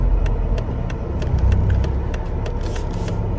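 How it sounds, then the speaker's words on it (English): Steady, rapid ticking clicks from a BMW E46's turn signal, repeating evenly over the low rumble of an idling engine. "That's a turn signal in a BMW."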